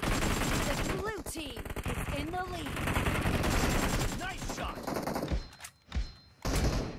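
In the mobile shooter PUBG Mobile, an AKM assault rifle fires quick automatic bursts close by, the rapid shots mixed with game sounds and a voice talking.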